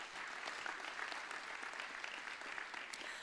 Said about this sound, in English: Could you give them a really big round of applause?